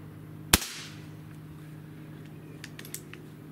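A single sharp crack from a Benjamin EB22 air pistol, loud and close, followed by a brief decay and a few faint ticks.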